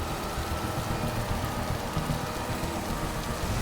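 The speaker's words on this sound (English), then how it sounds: "The rain would pour, and then it would pour heavier and heavier and heavier." Heavy rain pours steadily and loudly over an Alberta highway roadside scene, a dense, continuous wash of drops with no pauses and no voices.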